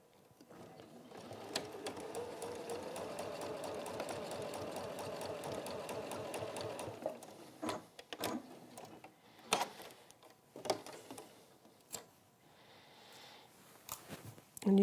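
A sewing machine runs a steady, fast stitching burst for about seven seconds while joining a quilt seam for a peacock quilt, then gives way to scattered clicks and handling noises with no talking.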